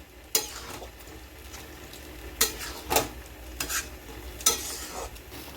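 Mutton bhuna masala stirred and rubbed by hand in a pan with added cold water, giving soft wet scraping and a few louder clinks and squelches at irregular intervals, close by with no talk.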